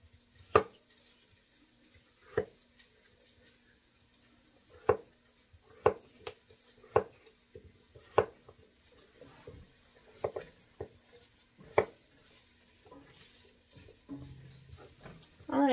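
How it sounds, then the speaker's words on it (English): A knife cuts through potatoes on a board in sparse, uneven chops that come a second or two apart, with quiet kitchen handling between them. "I'm going to cut up the rest of these potatoes"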